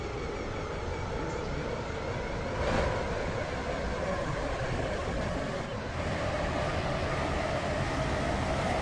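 A Class 720 train runs in Roblox Stepford County Railway, giving a steady, continuous rumble and hiss of rolling stock that stays loud and even throughout, with no talk heard.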